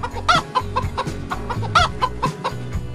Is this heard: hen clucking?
yes